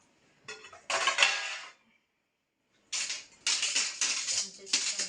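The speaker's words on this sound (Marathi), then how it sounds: "चमचे चमचे तर एवढे पडतात काय सांगायला" Dishes and spoons clatter in a home kitchen during the washing of the household's pots and utensils, two close, sharp bursts of metallic rattling separated by a second of silence, the second longer and broken into several clusters.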